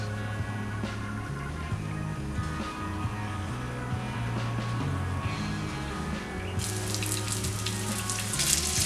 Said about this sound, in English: I fry the meatballs for 3 minutes on each side